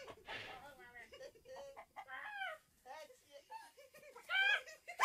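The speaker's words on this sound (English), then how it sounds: "Ah, and I found that fighting chicken." Excited clucking and squawking from a fighting chicken, mixed with people talking close by, the bird's calls growing louder and sharper near the end.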